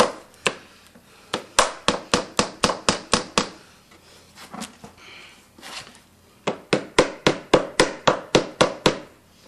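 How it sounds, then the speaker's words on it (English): A small hammer flattens metal washers on a Boz balance ride saddle kit. Crisp, rapid taps come in two quick runs with a short pause between them, close and loud, with no talk. "You can take your little hammer and kind of flatten them out."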